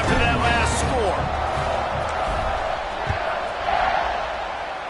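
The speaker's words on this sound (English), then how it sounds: "this crowd is buzzing after that last score" Stadium crowd buzzing after a score in the video game College Football 25, a dense roar with scattered whoops and cheers, steady throughout with commentary voices over it.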